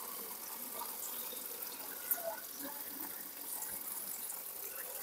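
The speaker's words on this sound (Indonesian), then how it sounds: "kita coba lihat langsung dari keran wastafel. Kita tampung di botol aqua ya." Water runs from a sink tap into a plastic bottle, a faint, steady hiss of flow with no talking.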